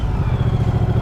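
Moto Guzzi V100 Mandello S motorcycle with a transverse V-twin engine running just after start-up, a close, loud low throbbing rumble with a steady pulsing beat and no voices.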